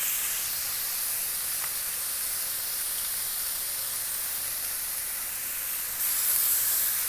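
Chicken and shrimp searing in a hot pan, a steady loud sizzle and hiss close up that swells slightly near the end, with no talking.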